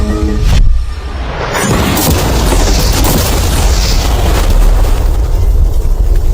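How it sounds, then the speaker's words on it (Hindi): A loud, sudden blast as a car is blown up, then a long roaring rumble of fire and debris fills the air, continuing steadily afterward. "चलो उड़ाते हैं एक नॉर्मल कार को और देखते हैं कि पैसेंजर्स बच पाते हैं या नहीं"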